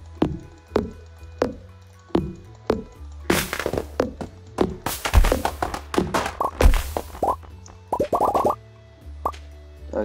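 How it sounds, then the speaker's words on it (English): Chopping a tree in a farming video game gives a run of short plopping thunks, spaced at first and then coming in quick bursts, crisp and close with no voice. "Destroy this tree now."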